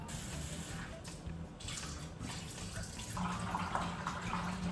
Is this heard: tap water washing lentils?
yes